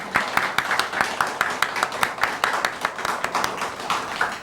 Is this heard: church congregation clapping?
yes